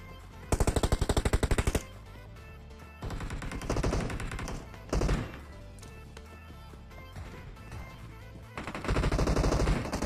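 Rapid automatic gunfire in a mobile battle royale shooter on the Erangel map, loud rattling bursts of rounds at the start and again near the end, with single shots and thuds in between.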